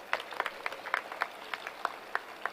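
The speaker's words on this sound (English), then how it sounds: "a big round of applause for them" Scattered, fairly faint clapping from a convocation audience, applauding graduates' families and parents; a thin patter of individual claps rather than a full ovation.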